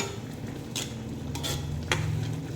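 Cooked mung beans being stirred in a pot, giving a few soft scraping and clinking strokes of a utensil against the pot over a low steady hum, close and fairly quiet.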